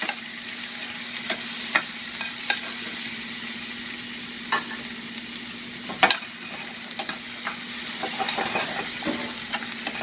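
White onion frying in a pan, a loud steady sizzle throughout with scattered spatula clicks and one sharper knock near the middle, no voices.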